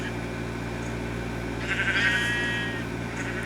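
A sheep riding in a minecart in a block-building game bleats once in the middle, a wavering cry over a steady low mechanical hum and hiss that runs throughout.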